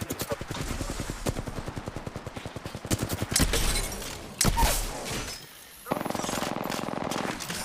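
Rapid automatic gunfire rattles in fast bursts in the video game Apex Legends, loud and close, with a couple of heavier impacts and a brief pause before firing resumes.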